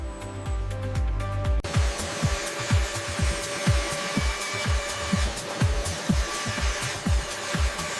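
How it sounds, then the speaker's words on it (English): A vacuum hold-down system runs steadily under a machine working a panel made from pistachio shells, a continuous broadband hiss and hum with a repeating low rhythmic pulsing throughout, close and fairly loud. "The vacuum is holding strong."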